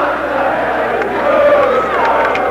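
A packed arena crowd at a 1981 ECAC playoff ice hockey game between Colgate and Northeastern gives a loud, sustained, rumbling reaction of displeasure, with a steady roar of many voices throughout.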